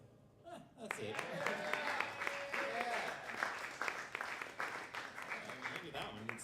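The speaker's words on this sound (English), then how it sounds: "thank you for clapping" Applause breaks out from a small open mic night audience, starting abruptly after a quiet moment, then scattered and fluctuating with a voice talking over the clapping.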